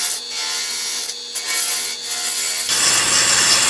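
A wood lathe turns a pen blank as a gouge peels off long shavings, a loud continuous scraping hiss with brief dips before it shifts to a brighter, harsher tone near the end.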